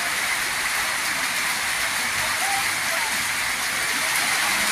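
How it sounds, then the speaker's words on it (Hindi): A steady, even hiss of rain falls without pause, dense and constant throughout. "देखिए कैसे बारिश हो रहा है, धीरे धीरे कर रहे हैं।"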